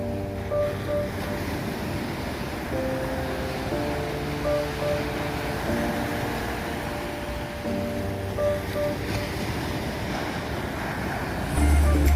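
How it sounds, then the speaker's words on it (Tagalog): Large ocean waves breaking on an open beach in Fujairah, with a steady roar of surf and wind noise on the microphone throughout. "Laki ng alon, no?"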